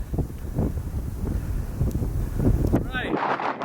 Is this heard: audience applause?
no